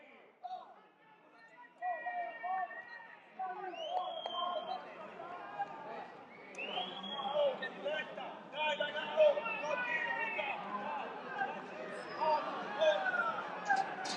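Crowd of football fans outside the Matranga stadium in Castellammare, behind the goal, chattering and cheering after a goal in a Sicilian Eccellenza match; a steady, distant hubbub of voices builds and swells throughout.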